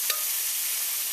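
Seasoned turkey necks sizzling in a pot of curry base over medium-high heat, a steady loud hiss of frying throughout with a brief stirring scrape near the start.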